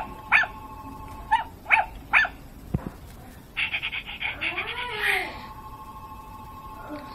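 A Zoomer Zuppies robotic toy puppy making electronic yips and short barks followed by a whimpering, warbling cry after its nose is pressed, fairly quiet and close, with no talking.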